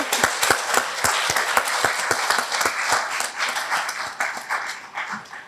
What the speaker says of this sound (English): I'd like for us to give the parents a resounding applause for being there.